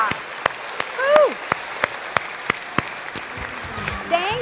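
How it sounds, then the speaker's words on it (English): Sparse, rhythmic clapping for school reading volunteers rings out in sharp, evenly spaced claps, with a brief whooping voice and some murmured talk underneath. "Let's give all of our volunteers 18 years through first year a huge round of applause"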